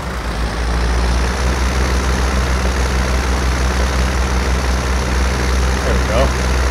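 An old farm tractor engine idles steadily and loud with a deep low rumble, running continuously throughout, with voices audible over it.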